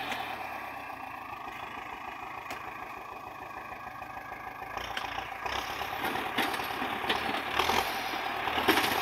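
A Valmet tractor engine idles steadily with a low, even chug, growing slightly louder and rougher toward the end, heard alone without talk.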